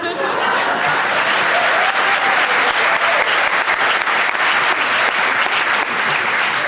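A graduation ceremony audience applauds, a dense, steady wash of many hands clapping that goes on for several seconds, with faint chuckles in the crowd.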